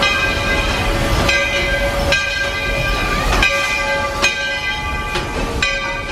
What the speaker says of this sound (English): we're gonna ride the train back to Fantasyland